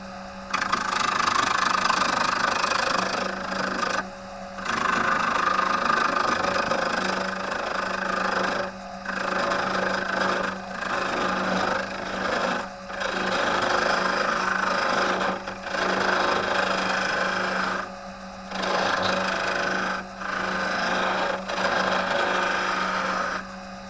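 An HSS chisel shaves wood turning on a lathe, giving a steady whirring, scraping drone close to the listener, broken by short pauses as the tool lifts off and then returns to the workpiece.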